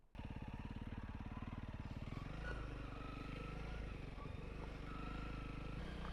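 A Honda CRF300L motorcycle rides a pine-forest track, its engine droning loud and close with a steady thumping beat throughout, the pitch shifting as the throttle changes, plus some clatter from the bumpy ground.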